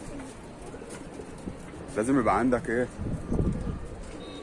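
Domestic pigeons kept in a fancier's loft coo in low, rolling phrases near the microphone, with someone talking over and around the calls.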